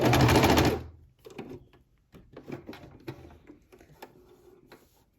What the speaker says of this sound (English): I'm going to sew that again really quick